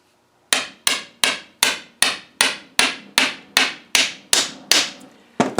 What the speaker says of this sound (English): tippity tap tap tap with a hammer.